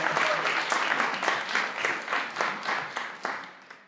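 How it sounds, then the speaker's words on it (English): An audience at an on-stage event claps, a brisk burst of applause that swells and then thins out over a few seconds. "come to me on stage with a big applause"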